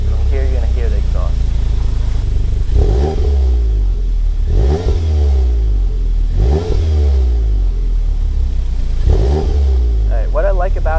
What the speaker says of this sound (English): From here you're going to hear the exhaust.